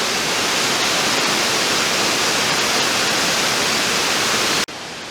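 Waterfall below the Gregorčič waterfall near Kobarid, a steady, loud broadband roar of falling water close by. It holds constant for almost five seconds, then cuts abruptly to a slightly quieter rush.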